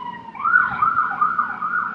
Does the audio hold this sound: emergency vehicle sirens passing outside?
yes